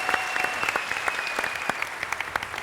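Studio audience on a Turkish comedy talk show bursts into applause, sharp individual claps popping through a dense, fairly loud wash of clapping, with a faint tone running underneath.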